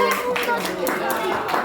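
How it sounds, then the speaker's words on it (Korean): Children at an elementary church gathering clap together in congratulation, a quick run of close, bright hand claps with slightly uneven rhythm. "축하드려요. 박수 한번 해줘요."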